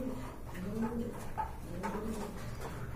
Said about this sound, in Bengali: খুবই সুন্দর এক জোড়া কবুতর।